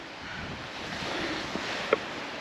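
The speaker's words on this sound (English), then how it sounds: "Super windy." Strong, steady wind rushes across the microphone on a rough mountain trail in Guadalupe Mountains National Park, a broad continuous roar with a couple of faint clicks, no talking.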